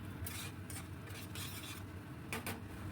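Potato and pointed gourd curry is stirred in a pan with sugar added, giving soft scraping and clinking of a utensil against metal over a low, faint sizzle, close by and without talk.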